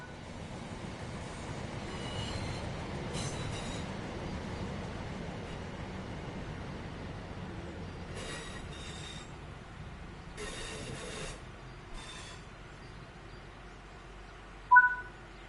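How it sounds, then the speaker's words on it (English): A train in Train Sim World 6 brakes to a stop, rumbling low and steady, with several bursts of high metallic wheel squeal, then a sharp clank near the end. "Now that you've moved down the track, it's time to bring the train to a stop."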